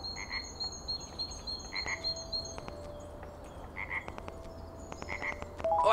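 Frog croaking in the video game Star Surveyor, an alien world exploration game, a steady stream of repeated croaks over a soft ambient bed with occasional electronic game tones, no talk.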